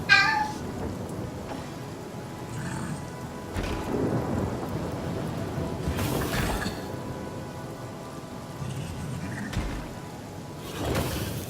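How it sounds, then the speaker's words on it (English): Steady rain hisses throughout in the video game Divinity: Original Sin while low thunder rumbles roll in several times, with a couple of sharper cracks near the middle and end. "Make sure we keep that rain going"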